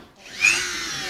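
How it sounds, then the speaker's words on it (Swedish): A drill boring holes while a horse is being shod: a short, close whirring burst that rises quickly and then holds steady. "Borrar hålen."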